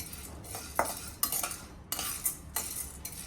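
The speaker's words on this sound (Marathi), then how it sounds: "काही वेळा सादळल्या जातात डाळ्या, म्हणून हलक्याशा भाजून घेते." Roasted gram being lightly dry-roasted in a pan for chakli bhajani flour, with several sharp scraping and clinking strokes of a spoon against metal over a quiet background, no talking.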